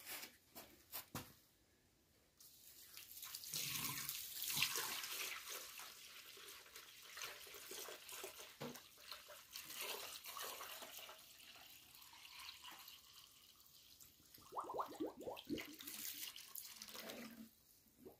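Water running and splashing while work is done on a Mercedes-Benz W203 270 CDI with a suspected turbo fault, an irregular faint gush and trickle with intermittent louder bursts and a few knocks, no talking.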